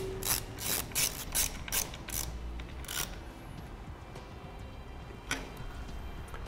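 Screws tightened on a Hopkins 7-way molded trailer wire connector, a close run of quick ratcheting clicks in bursts, then sparse ticks, no talking.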